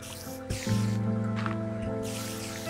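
Water pours into a Minecraft ant-farm build as a waterfall is placed. A steady splashing, liquid wash sits over a constant tonal game-music background, fairly loud and continuous.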